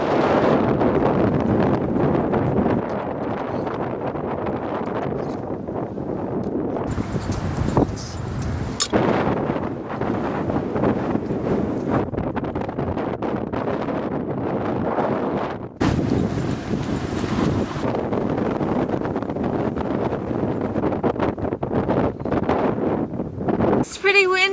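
Strong wind buffets the microphone in heavy, roaring gusts, with rumbling blasts and rustling on deck, and a voice speaks faintly under it.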